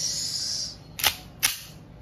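An Umarex Colt M45 CQBP full-metal airgun fires two sharp, close, dry shots about half a second apart, each a brief crisp pop following a steady faint hiss.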